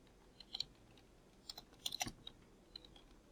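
Clicks of typing on a computer keyboard come in short irregular bursts, crisp and close, with quiet gaps between the keystrokes and no talking.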